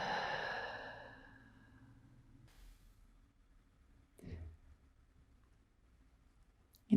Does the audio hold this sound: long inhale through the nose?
yes